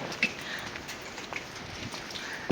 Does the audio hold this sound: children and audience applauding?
no